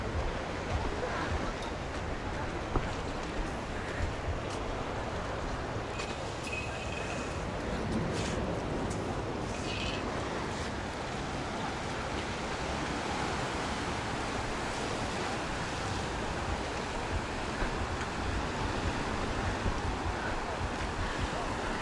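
Sea waves washing onto Damlataş beach in Alanya, a soft continuous surf hiss with gentle surges, heard from a distance with light wind buffeting the microphone and faint background activity.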